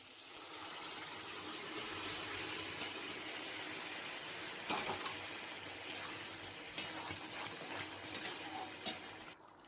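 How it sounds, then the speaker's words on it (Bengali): Pressure-cooked curry is poured into a pan of freshly cooked masala, giving a steady, soft wet gushing and stirring noise with a few small clinks, fairly quiet and with no talking. "এবার তরকাটা ঢেলে দেবো এর মধ্যে"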